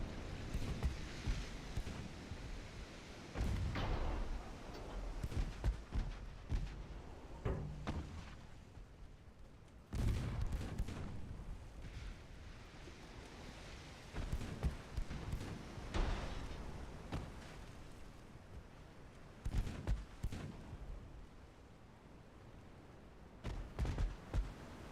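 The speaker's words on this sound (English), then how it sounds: "Fire the guns!" Warship guns firing in the naval battle game Ultimate Admiral Dreadnoughts, heavy booming salvos over a low sea-and-engine rumble, with a big blast near the middle and scattered further shots, no talk.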